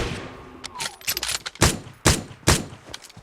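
Gunfire in the mobile battle-royale game PUBG Mobile: a scatter of lighter shots, then three loud, sharp reports about half a second apart, each a close, punchy crack ringing out over a quiet background.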